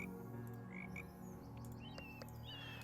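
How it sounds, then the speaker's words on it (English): Frogs croak in the puzzle game Pan'orama, several short chirpy calls scattered over a steady droning ambient music bed, with no talking. "Look at all these frogs too"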